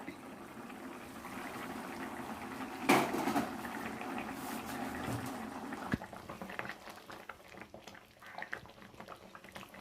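A small sand fish curry (isaka dondulu) simmers in a pot, giving a steady bubbling and boiling texture for the whole stretch, with a brief louder clatter near the start.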